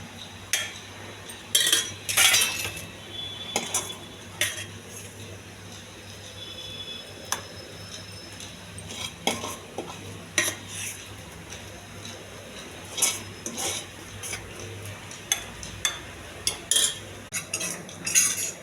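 Packing a lunch box with ivy gourd fry: steady spoon and container clinks, taps and scrapes in scattered bursts, close-up, with a low background hum and brief talk.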